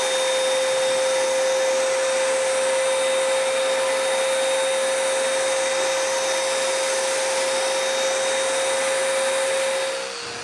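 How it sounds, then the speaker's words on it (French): A spray gun applies a first coat of varnish to the top of a live-edge wood mantel, making a loud, steady, close hiss that runs unbroken and drops slightly just before the end. "je vaporise la première couche de vernis sur le dessus"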